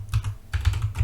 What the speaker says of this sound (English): So we will be typing